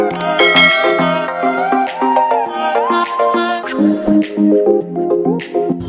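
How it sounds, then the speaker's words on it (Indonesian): A short melodic chime sequence plays as a notification bell sound effect, a loud, bright run of ringing tones over about six seconds, heard alone without any voice. "bunyikan lonceng notifikasi"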